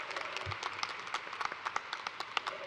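Applause for graduate students at a College of Nursing convocation ceremony, a faint, dense patter of many hands clapping in a large hall, steady and somewhat distant throughout.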